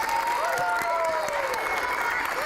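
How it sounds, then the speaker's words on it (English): Steady applause from a school audience at an elementary school science assembly, a dense even patter of clapping filling the room for the full length, with faint crowd murmur and a whistle-like tone mixed in. "Let's give me a round of applause for this one."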